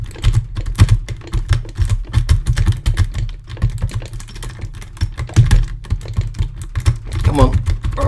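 A jiggler key from a cheap cross key lock pick set rattling in a cross key lock, with rapid, continuous metallic clicking and scraping close to the microphone and loud throughout.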